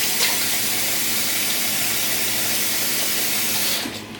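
Tap water runs steadily into a sink while hands are washed, a close, even rushing spray that holds constant before trailing off as the flow is shut at the end.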